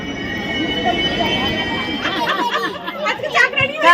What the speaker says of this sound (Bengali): আমরা সবাই ট্রেনে উঠে গেছি দীঘা থেকে।